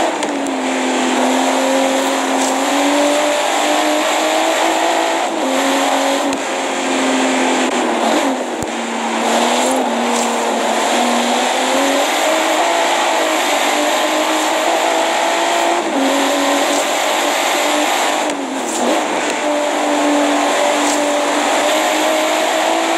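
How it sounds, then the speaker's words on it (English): A Toyota 2JZ engine in the racing game Forza Horizon 3 drones at high revs, rising and dipping with each shift and corner, loud and continuous throughout with only the faint edge of tyre noise. "Loving the sound of 2JZ."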